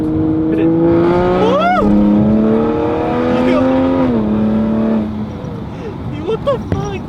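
Toyota Supra under full throttle, a loud close engine howl rising through the gears with brief dips at shifts before easing off, with voices shouting over it.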